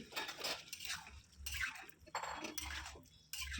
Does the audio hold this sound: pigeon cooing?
no